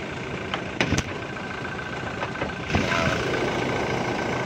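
A 2018 Toyota Hilux G 4x4 manual diesel idles with its bonnet open, a steady low rumble heard close up, with a couple of brief knocks and a slight rise in level partway through.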